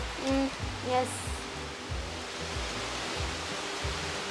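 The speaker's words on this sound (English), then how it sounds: "Semi heavy rain." Semi-heavy rain comes down outdoors at a nature retreat as a continuous broadband wash, with a couple of faint tones near the start.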